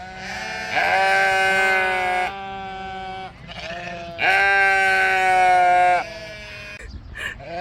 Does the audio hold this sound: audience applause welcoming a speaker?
no